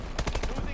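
Automatic gunfire in Call of Duty: Advanced Warfare, a short rapid burst of about six evenly spaced shots, loud and close.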